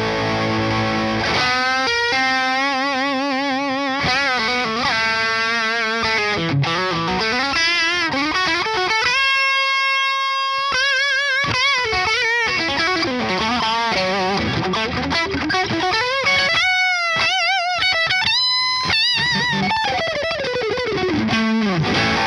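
An electric guitar plays through a Seymour Duncan Vise Grip compressor pedal with heavy distortion, sustained saturated chords and bends ringing loud and continuous, with note changes and brief gaps, no talking.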